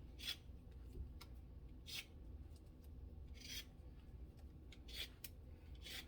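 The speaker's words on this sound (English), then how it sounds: "I'm just peeling some of the peel off so it won't be so thick on there." A peeler scrapes strips of skin off a pickling cucumber in a kitchen, giving five or six short, faint rasping strokes at irregular intervals over a low background hum.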